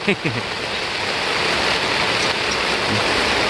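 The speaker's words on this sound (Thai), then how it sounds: "ตอนนี้ฝนตกเออ โอ้ยฝนตกหนักเลย" Heavy rain pours onto a tent at a reservoir during a fishing and foraging trip, a dense, loud, steady roar close around the listener, with a brief voice at the start.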